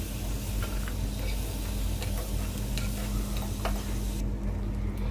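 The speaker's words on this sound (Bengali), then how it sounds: "চিংড়ি মাছগুলো একটু ভেজে নিচ্ছি" Shrimp fry in oil in a home kitchen, a steady broadband sizzle with a low hum and scattered clicks and stirring taps, continuous and close with no talking.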